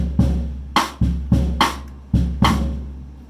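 A drum kit plays a sparse clave pattern: deep bass drum thumps mixed with bright, clicking clave accents in an uneven repeating rhythm, close and loud.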